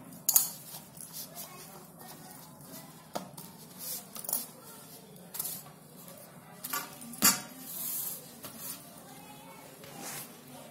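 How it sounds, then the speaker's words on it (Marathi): Mathri dough is rolled out flat like a chapati in a home kitchen, giving soft, irregular knocks and scrapes of the rolling pin against the board, faint and close, under a woman's speech. "आता मी याची आहे ना चपाती सारखी आहे ना लाटून घेणार आणि त्याच्या पुऱ्या बनवणार"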